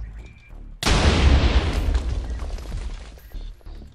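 A heavy pirate ship cannon fires in a Minecraft battle: one sudden, loud, deep boom erupts after a quiet start, then rolls and rumbles away with scattered crackling debris for several seconds.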